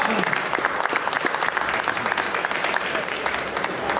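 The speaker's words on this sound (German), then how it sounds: "Das ist eure Bühne, das ist euer Applaus." Dense, loud audience applause fills the hall at the Agritechnica agricultural show, a sustained wash of many clapping hands at close range lasting several seconds with no pause.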